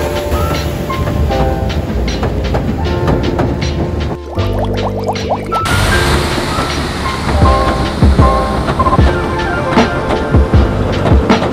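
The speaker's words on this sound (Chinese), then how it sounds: "远处那个木栈道的地方就是这边有名的海上小火车，它超爆慢" Slow pier train rolling along the long wooden pier at Southend-on-Sea, a steady rumble with repeated clickety-clack of wheels on track, close and continuous with a brief squeal midway.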